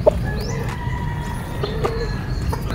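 Gamefowl roosters at a game farm, a short chorus of distant overlapping crows and clucks over steady low background noise.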